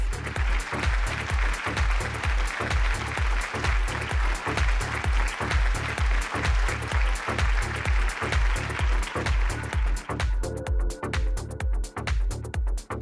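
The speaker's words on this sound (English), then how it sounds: "Let's have a huge round of applause for Krishna Enterprises." A crowd at an awards event applauds continuously over a loud, steady thumping beat, the clapping thinning out toward the end.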